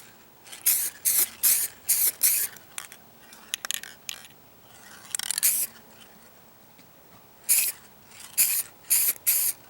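Aerosol blending solvent sprayed onto a clear-coated rear bumper cover of a 2001 Corolla: short hissing bursts in quick rhythmic groups, close and loud, with quiet pauses and small clicks between them.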